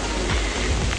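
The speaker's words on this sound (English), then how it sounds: "this is the reality of it being really rainy" Heavy rain pours down at a campsite on Fraser Island (K'gari), a dense, loud, continuous hiss filling the brief moment with no voices.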